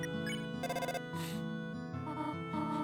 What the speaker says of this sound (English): the phone is going